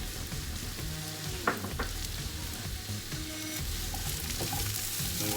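Mushrooms and red peppers fry in olive oil, a steady close sizzle with occasional stirring clatter and no voices.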